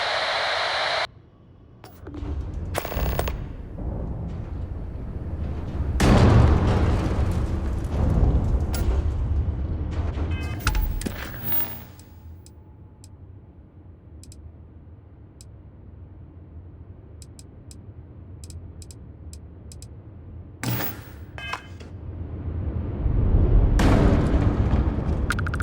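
Heavy explosions in the sci-fi game Starfield, set in an overrun high-energy research lab: deep booming blasts and rumbling bursts, with loud surges near the start, mid-clip and end over a constant low roar.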